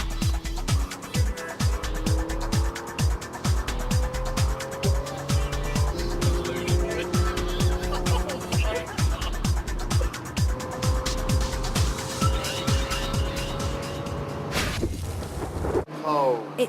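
A Ferrari 355 sports car on a long-distance European road rally, its engine revving through repeated gear changes with rhythmic rising pitch sweeps, close and loud, ending in a brief abrupt cut near the end.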